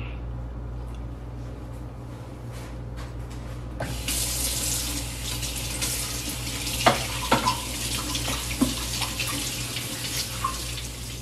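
Bok choy washed under a running kitchen tap: a low hum gives way to a loud, steady gush of water into a sink, broken by splashes and knocks as the leaves are handled.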